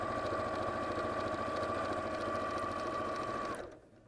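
Sewing machine stitching a curve along the edge of Bosal foam stabilizer for a quilt block: a steady, close mechanical whir with a constant hum that runs alone and stops abruptly just before the end.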